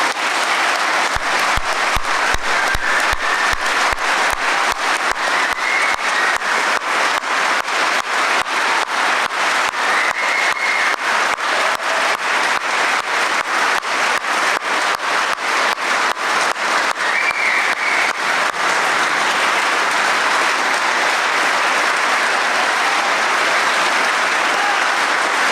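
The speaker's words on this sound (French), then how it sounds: "Je voulais vous demander de les applaudir" A crowd applauds steadily and loudly for the pioneers of the Basque pig (Kintoa) revival, dense clapping continuing without pause, with a few scattered whistles.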